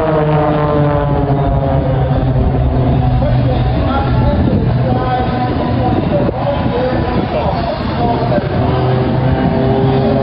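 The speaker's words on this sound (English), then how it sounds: "We're going out here to check out the airplanes." An airplane engine drones loud and steady outdoors, with a constant buzzing, propeller-like hum that holds for the whole stretch without pause.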